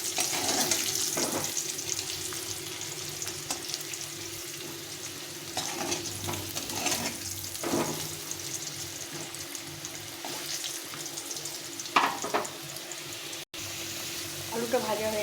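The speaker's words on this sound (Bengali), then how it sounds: "আলুটা একটু ভালো করে ভেজে নিতে হবে, একদম লাল করে ভেজে নেব।" Potatoes frying in oil for a goat curry meal, a steady soft sizzle with occasional stirring scrapes, close by and continuous under intermittent speech.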